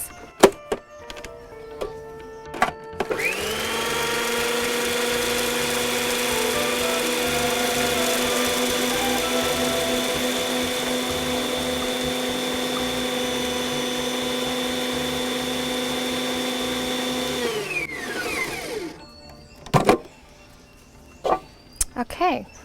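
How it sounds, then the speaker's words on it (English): A blender or food processor grinds almonds into a fine powder, a loud steady motor whine running about fifteen seconds before spinning down, followed by a few clunks and brief handling noises. "I'm just going to grind it for a few more moments."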